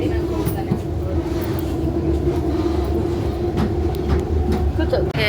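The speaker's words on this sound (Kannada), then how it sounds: "ಇವಾಗ ನಾವು ಮೆಟ್ರೋಗೆ ಬಂದ್ವಿ" Metro train running through a metro station, a steady loud rumble with rail clatter and a low hum throughout, with voices in the background.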